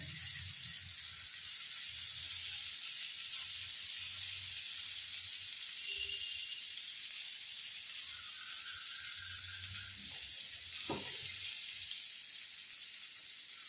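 Paneer satay sizzles in ghee on a nonstick tawa, a steady bright frying hiss that runs throughout with a few soft clinks and scrapes of turning the pieces, close and alone without talk.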